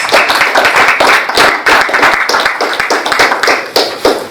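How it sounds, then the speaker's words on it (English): An audience at a keynote speech event gives a speaker a round of applause. The claps are loud, close and distinctly separate, in an uneven, choppy rhythm from a fairly small group, with no voices. "Please, can we give her a sound round of applause, please?"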